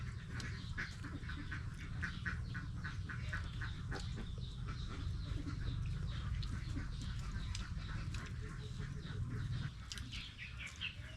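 A flock of ducks quacks continuously at a farm where duck eggs are gathered, with dense overlapping calls at moderate distance and a steady low rumble underneath.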